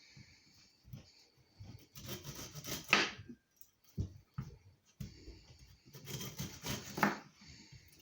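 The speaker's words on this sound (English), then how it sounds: "I'm just removing the skin from my pineapple." A knife slices the skin off half a pineapple in two bursts of scraping, crunchy cuts with short pauses in between, close and fairly quiet with no talking.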